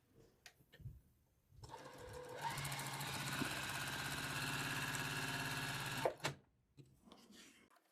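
A sewing machine runs steadily for several seconds, stitching quilt pieces corner to corner, as a fast, even mechanical whir with a rattling needle rhythm. Faint handling clicks come before and after, close by.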